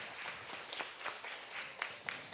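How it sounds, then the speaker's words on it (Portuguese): Applause for a councilman during a youth chamber session at a school, sounding as a quiet, thin patter of scattered clapping with a few sharper claps standing out, brief and somewhat distant. "uma salva de palmas para o vereador Thiago Martins"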